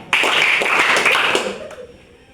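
A burst of group clapping from a classroom of students during a rhythmic clapping game, loud for about a second and a half before fading into faint voices.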